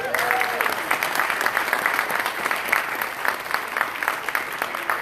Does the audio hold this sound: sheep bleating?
no